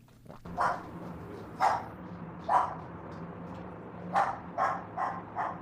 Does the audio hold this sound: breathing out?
no